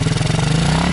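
A pit bike engine idles with a light throttle blip, giving a loud, close, steady pulsing motorcycle rumble for the full second.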